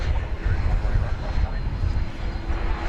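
Envoy 4108 airliner at night at DFW Airport, departing for Chicago Rockford: a continuous deep engine rumble with a broad roar, steady and fairly loud throughout, with faint voices mixed in.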